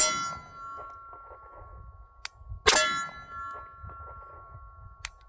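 A Walther PDP-F pistol's trigger resets with a few sharp metallic clicks, one louder snap in the middle and fainter ticks before and after, heard close against a quiet background.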